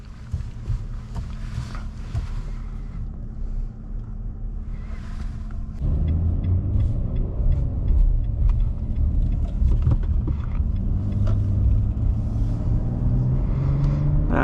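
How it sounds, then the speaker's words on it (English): A 2022 Nissan Frontier pickup with a naturally aspirated 3.8-liter V6 drives along, its steady low engine rumble and road noise rising as it pulls away and builds speed, heard from inside the cab with no talking. "Let's take it out for a quick spin."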